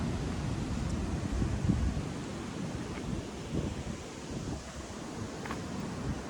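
Wind and waves roll in from open sea along the Devbag coast in Konkan, a continuous low rumbling wash with gusty microphone buffeting, loud and steady throughout with no one speaking.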